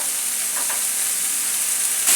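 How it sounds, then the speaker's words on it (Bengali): Garlic and ginger frying in a pan while being stirred, a dense close sizzle with faint spoon movements and a louder burst at the end. "তারপর একটু ভালো করে নাড়াচাড়া করে নেব"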